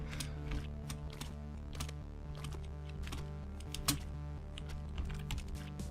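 Rapid typing clatters on a computer keyboard over a steady droning game soundtrack, close clicks in quick irregular bursts with no talking.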